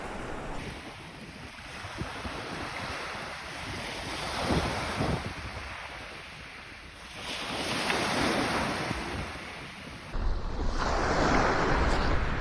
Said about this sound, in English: Tide's on its way in.